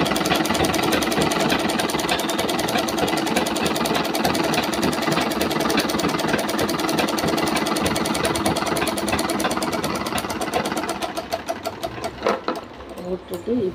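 A sewing machine stitches lining fabric with a close, loud, steady rapid whirring hum that runs continuously, then slows into separate needle strokes and stops near the end.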